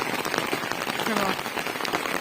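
Heavy rain falling on farmland, a dense, steady close hiss of drops with no pauses, and a faint voice briefly in the background.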